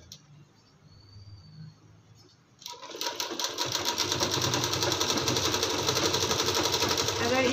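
A sewing machine stitching a lining onto a kurti suit, starting after a quiet stretch with faint talk, then running fast and loud with a dense, steady rattling whir that continues to the end.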